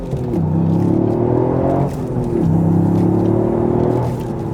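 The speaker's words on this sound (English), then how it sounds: "Pulling out onto the motorway here again," A Toyota Yaris GR with a turbo engine pulls onto a motorway in first gear, a strong close engine drone that climbs in pitch, drops briefly at a gear change, then climbs again.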